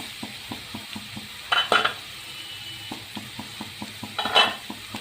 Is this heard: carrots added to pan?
yes